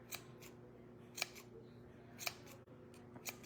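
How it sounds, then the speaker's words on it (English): Scissors snip yarn hair on a highland cow craft made of painted wood. Several sharp, close cuts fall at irregular intervals over a quiet background. "Trimming our hair up here"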